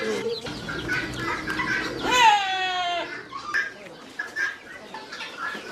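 Hens cluck and cackle close by, with a loud rising squawk midway, while softer chick peeping and clucking continue around them.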